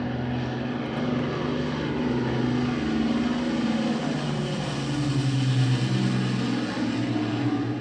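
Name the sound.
Lancaster bomber propeller aircraft flying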